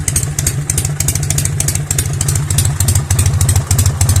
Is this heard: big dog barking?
no